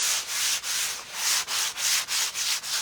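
Black-painted canvas is lightly sanded by hand, a close, loud series of about eight rhythmic back-and-forth scratchy strokes with brief gaps between them.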